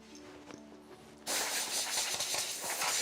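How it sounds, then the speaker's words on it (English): Compressed air blown to clean a door during restoration, a sudden loud broadband hiss starting after a quiet moment and continuing steadily, close to the listener. "now the compressed air"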